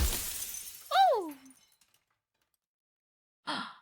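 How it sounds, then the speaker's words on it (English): A mirror shatters in the video game Slay the Princess: a bright glassy crash with ringing tones that bend and slide downward, followed by silence and then a second short shimmering burst. "That was like the sound of the mirror shattering."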